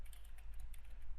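Typing on a computer keyboard while entering code, quick faint key clicks in an irregular patter over a low background hum.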